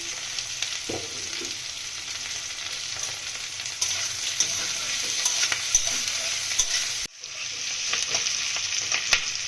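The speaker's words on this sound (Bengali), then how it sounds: "ক্যাপসিকামের কাঁচা গন্ধটা চলে যাওয়া অবধি নাড়ব" Capsicum fries in a pan with a continuous sizzle while a spoon stirs and scrapes it now and then, the hiss steady and close with a short break near the end.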